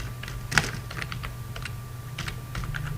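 Keyboard typing into an Excel invoice sheet, a quick run of close, crisp key clicks with one louder tap early on, over a low steady hum and no talking.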